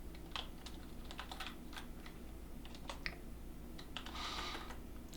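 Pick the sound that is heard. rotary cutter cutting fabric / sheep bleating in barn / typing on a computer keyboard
typing on a computer keyboard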